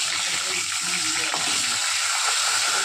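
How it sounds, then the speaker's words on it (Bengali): Katla fish pieces coated in salt and turmeric fry in hot oil, giving a loud, dense, continuous crackling sizzle close up, with faint low kitchen rumble beneath and nothing else over it. "এবার নুন হলুদ মাখানো মাছটা ভেজে নেব"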